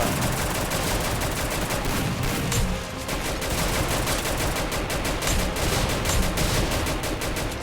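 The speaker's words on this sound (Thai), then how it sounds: "หมือนว่าเราจะโดนลูกระเบิดตัวเองนะผม" Gunfire and grenade blasts from the video game Free Fire, a dense, continuous barrage of rapid shots and explosions that stays loud and close throughout, with no voices.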